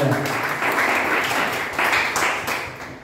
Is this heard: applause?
yes